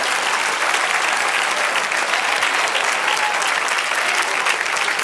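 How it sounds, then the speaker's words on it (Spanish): A church congregation applauding, dense sustained clapping from many hands throughout, loud and even with no pauses. "aplauda ahora"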